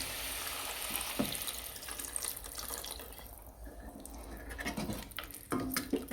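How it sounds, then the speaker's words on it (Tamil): Water runs steadily into a cooking pan of vegetables, a continuous splashing pour close by with a few small clinks and knocks near the end. "இந்த காய்கறிகள் வேகிறதுக்கு நான் ஒரு டம்ளர் தண்ணி ஊற்றுறேன்"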